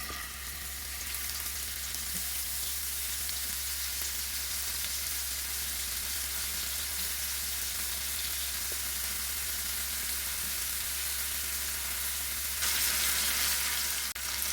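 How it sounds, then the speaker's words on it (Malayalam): Prawns half-fry in a little oil in a pan for a Kerala-style prawn curry, producing a continuous close sizzle with fine crackling that stays constant and gets slightly louder near the end, with no talking. "ഇതൊന്ന് ഫ്രൈ ചെയ്തെടുക്കണം. പകുതി ഫ്രൈ ചെയ്തെടുത്താൽ മതി"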